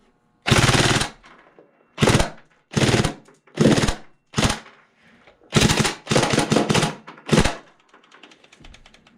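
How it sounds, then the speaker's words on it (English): A Tokyo Marui SCAR-H Recoil Shock airsoft rifle fires full-auto bursts, about eight sharp rattling volleys of rapid clacking shots, loud and close, separated by short pauses. "I'll get the camera closer so you can actually see the recoil of the sight jiggling up and down as the weapon goes from semi to full auto."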